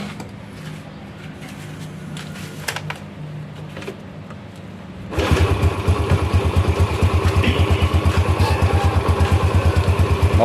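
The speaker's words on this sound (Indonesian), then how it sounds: "Coba kita tes, kita hidupkan mesinnya." A Yamaha Jupiter motorcycle engine cranks and fires up midway, then settles into a loud, steady, rapid-pulsing idle close by.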